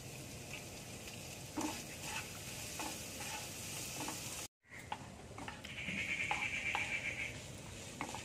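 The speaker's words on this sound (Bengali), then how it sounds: "এই দেখুন পেঁয়াজ মাংস ভালো করে ভাজা হয়ে গেছে" Onions and chicken frying in a pan for restaurant-style chicken fried rice make a steady, close sizzle with stirring scrapes, broken by a brief moment of silence, with no talking.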